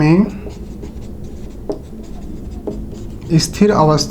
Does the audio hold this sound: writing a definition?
yes